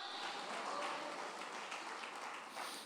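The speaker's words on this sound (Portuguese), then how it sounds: "As palmas para Jesus o Nazareno." A church congregation claps steadily, a dense, even wash of applause that is faint and distant and lasts the whole moment without pause.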